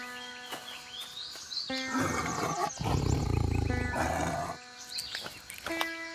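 A cartoon character imitating a wild tiger, a voice performing a long, loud rumbling roar that swells and fades over several seconds, with a few short tonal vocal bits before and after.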